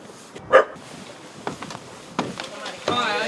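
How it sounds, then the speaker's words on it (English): A dog hidden under outdoor steps barks a few times, short separate barks spread out and not very close, amid an outdoor background. "I'm hearing another bark from over here."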